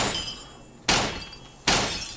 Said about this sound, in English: Once we shatter that glass.